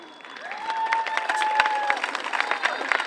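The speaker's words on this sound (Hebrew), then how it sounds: "קבלו במחיאות כפיים סוערות את הדיירים שלנו לעונה." An audience applauding at an end-of-year class performance: a brief, fairly soft patter of clapping under a voice and some tonal sound.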